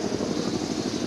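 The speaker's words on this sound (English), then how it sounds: "Oh, that's a helicopter." A helicopter flying overhead in documentary footage gives a steady, dense rotor and engine roar, loud and unbroken, with no voices over it.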